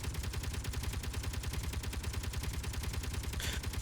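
Sustained rapid gunfire in the game Space Engineers, a dense, even stream of heavy thudding shots that runs without pause, loud and close, with no talk.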